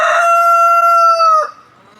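A backyard rooster lets out one loud, close crow, a long sustained call that breaks off sharply near the end, with no talking over it.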